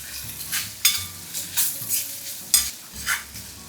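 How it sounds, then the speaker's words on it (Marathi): Onion sautéing gently over low heat in a pan, with a soft sizzle under repeated spatula scrapes and light clinks of metal on the pan at irregular intervals. "कांदा जराशी थोडासा परतून घ्यायचा"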